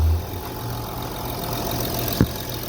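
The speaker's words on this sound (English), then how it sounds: "now the engine is started" An Audi/VW car engine idles smoothly after starting, a steady low hum that holds for the whole stretch, with one brief click partway through.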